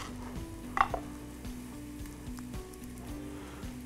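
Onions sautéing in a pan for a Turkish Hünkâr Beğendi dish, a soft steady sizzle broken by a few sharp scraping clicks as they are stirred, quiet and close with no voice.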